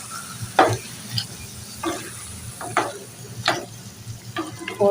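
Cabbage and potatoes frying in a pan, stirred now and then, giving a steady low sizzle broken by several distinct scraping strokes of the spoon at irregular intervals, close and fairly loud.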